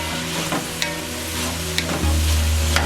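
Food being stirred in a frying pan while making chicken soup, with steady sizzling and scraping of the utensil against the pan, close and alone, with no talking.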